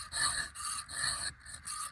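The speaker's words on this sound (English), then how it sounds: "we're just sharpening this a little bit" A metal file rasps across a saw's cutting teeth in four steady, evenly paced back-and-forth strokes, close and fairly quiet, with no talking.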